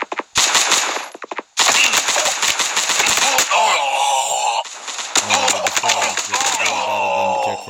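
Rapid bursts of gunfire from a gun in the mobile shooter Guns of Boom, loud and dense with short gaps, layered over game effects and a voice talking.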